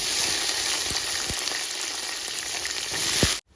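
Red onions fry loudly in hot oil for a large chicken curry, giving a steady close sizzle with a few soft stirring knocks, with no one talking.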